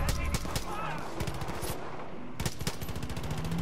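Automatic gunfire in the Far Cry 5 video game aimed at a vehicle's driver, loud rapid bursts of close shots in quick succession, with people talking over the shooting.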